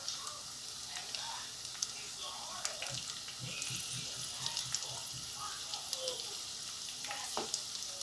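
Food sizzles steadily in a pan while lasagna soup is being cooked, a soft continuous frying hiss broken by occasional clinks and stirring sounds.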